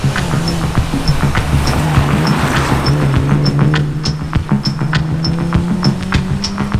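A BMW M3 E36 with a 321 hp engine runs in a loud, steady drone, with regular faint ticking pulses over the continuous engine note and no voices.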